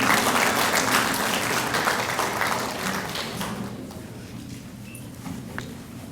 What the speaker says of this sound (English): give you all a round of applause for your role in their success